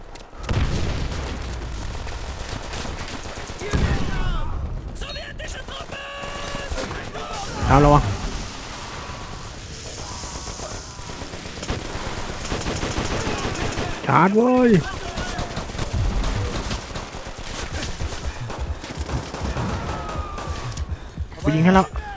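Gunfire in the World War II shooter game Call of Duty: World at War, with bursts and shots recurring throughout amid busy battle noise, while players talk over it.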